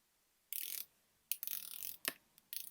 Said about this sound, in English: This is a 120 click unidirectional bezel